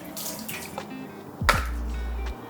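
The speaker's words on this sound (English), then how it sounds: "There is an outer layer which you can fill up with water through this little hole" Water is poured through a small hole into the outer layer of a double boiler used for melting beeswax. A short splash and clunk are followed by a steady low rush that lasts about a second, then stops.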